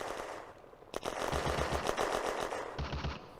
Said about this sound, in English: Something in the southern woods is firing a machine gun at Henning's squad.